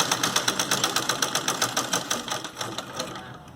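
A sewing machine stitching a small Punjabi suit gives a fast, even, rhythmic clatter of needle strokes, heard close and loud, then slows and fades toward the end with no talking.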